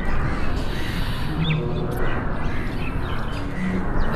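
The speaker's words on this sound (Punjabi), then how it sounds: "ਇਹ ਕਾਂ ਖਾਂਦੇ" Crows caw and squawk while feeding behind a house near a mosque. Their calls come in scattered bursts over a steady, noisy outdoor background.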